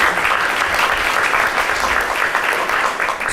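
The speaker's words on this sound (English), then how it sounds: "Round of applause for her." A crowd claps enthusiastically in sustained, dense applause that continues steadily without pause.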